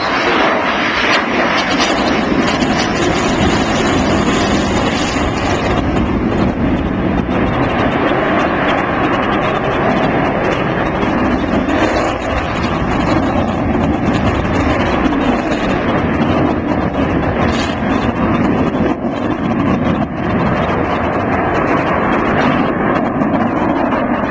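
Loud, continuous roar of an Avro Vulcan bomber's jet engines with a rising, rasping howl, sustained and close throughout, at the Farnborough air show.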